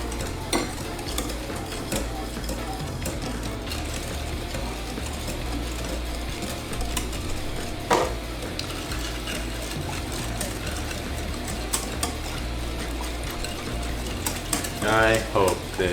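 Whisking in a bowl during beer brewing gives a steady, busy scraping and stirring that runs without a break for the whole stretch, with a few brief louder clicks and a quick rattling flurry near the end.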